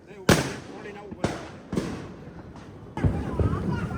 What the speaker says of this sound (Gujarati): હવે ફોડશું અહીંયા ફટાકડા